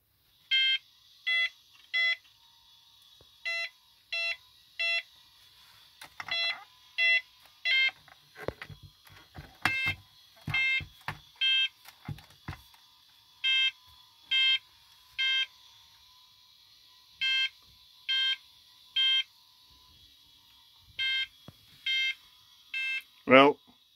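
A vintage computer gives off a long run of short electronic beeps, loud and evenly spaced in small groups, broken by a quieter patch of clicks and handling noise in the middle.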